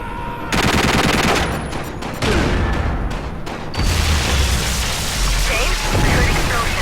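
Loud video-game gunfire in sustained bursts with booming blasts of exploding fuel cells at an eco hotel in Quantum of Solace, continuous and dense throughout, with no talk over it.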